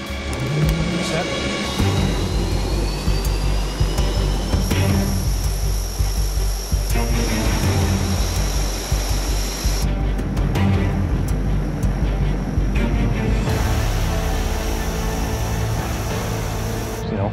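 The engines of a Buffalo Airways cargo plane run at a loud, steady roar with shifting tones while it taxis, as voices talk over the noise throughout.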